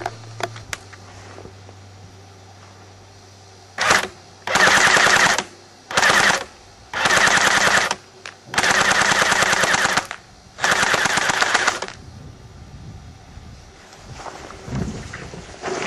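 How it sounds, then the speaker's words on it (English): A JG MP5 A4 airsoft gun fires five loud bursts of full-auto shots, each one to two seconds long, with short pauses between, shot from a prone supported position outdoors amid light wind. "here I am going to test fire the JG MP5 A4"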